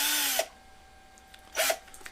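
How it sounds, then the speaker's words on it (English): A small cordless hand drill spins a nylon bolt chucked in its jaws, giving two short whining bursts with a quiet pause between them, close and loud, the motor pitch sliding down as each burst winds off. "chucked them up in my little hand drill"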